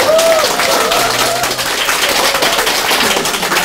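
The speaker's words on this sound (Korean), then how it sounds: "박수로 환호해 주시면" Audience at a live Buddhist talk broadcast applauding a monk guest, with dense continuous clapping and some cheering that stay loud and steady.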